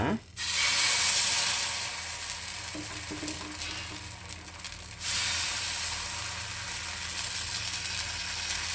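Cooking oil sizzles on a hot dosa griddle, a loud, steady frying hiss that flares up right away, eases slightly, then surges again midway and keeps crackling evenly.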